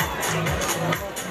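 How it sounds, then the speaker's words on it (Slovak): A dense crowd at the 2004 Kalša motorcycle rally raffle cheers and claps steadily for Ivan, a continuous wash of hubbub and applause with voices mixed in. "Potlesk pre Ivana!"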